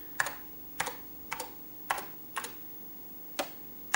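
Isolated clacking keystrokes on a Pioneer PX-7 MSX computer keyboard arrive in a slow, irregular rhythm of about seven sharp taps, heard close over a quiet background.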